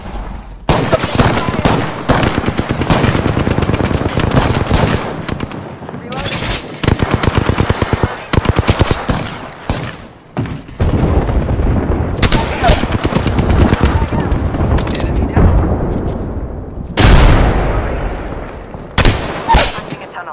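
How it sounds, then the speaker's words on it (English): Sustained automatic weapon fire rattles in the Apex Legends battle royale game, loud bursts of rapid shots with brief pauses between volleys, overlapping booms and near, dense firefights. "Getting shot at."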